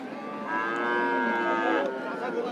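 A black Jersey cow at the Rajshahi city cattle market gives one long, loud moo lasting about a second and a half, with steady market crowd noise behind it.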